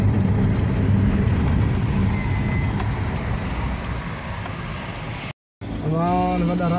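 Heavy night traffic on a city road near Jeddah airport, a broad continuous roar of passing cars and trucks close by, briefly cutting out before a voice speaks over the road noise.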